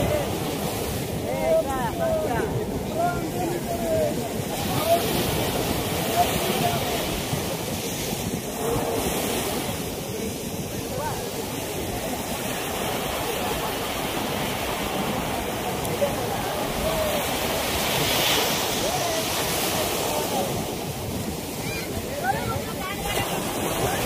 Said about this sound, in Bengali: তো গাইস দেখতে পাচ্ছ ঢেউ, খুব সুন্দর ঢেউ দিচ্ছে এখানে।